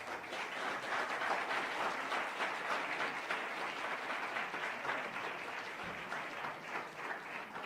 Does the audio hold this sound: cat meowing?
no